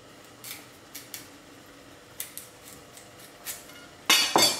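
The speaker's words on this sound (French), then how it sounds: "La première opération, on va détailler le brocoli" A knife cutting broccoli into small florets, a series of crisp snaps and cuts spaced irregularly, ending in two louder, crunchier chops, close up with no talking.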